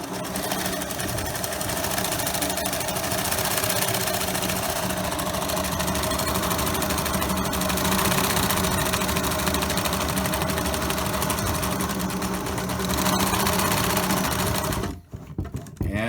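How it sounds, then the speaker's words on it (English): A sewing machine zigzag-stitching the bottom of a fabric surgical mask hums and clatters in a steady, close, continuous run for about fifteen seconds, then stops abruptly. "I'm going to use a zigzag to close up the bottom of the mask"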